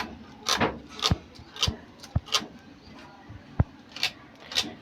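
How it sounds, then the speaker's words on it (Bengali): Electrical wires rubbed together to scrape off their insulation while repairing a 48-volt battery charger, heard as a series of soft, uneven scraping strokes with a few sharp clicks, close and fairly quiet. "আপনারা এইভাবে তারগুলা ঘষে ইনসুলেশনটা উঠিয়ে তারপরে তার জয়েন দিবেন"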